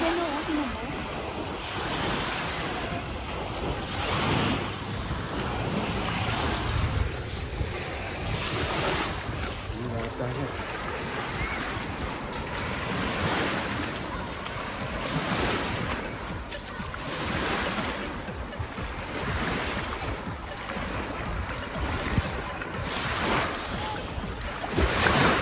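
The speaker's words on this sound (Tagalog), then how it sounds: "Malakas ang alon." Rough, windy water noise with strong waves surging and crashing in repeated swells on a lake at Gimli, Manitoba, heavy wind buffeting the microphone throughout.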